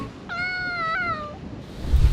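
A single cat meows on Ikeshima island, one drawn-out, clear meow close by, with faint outdoor ambience and a rumble of wind or surf rising at the end.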